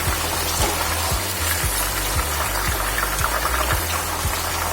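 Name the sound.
chicken frying in oil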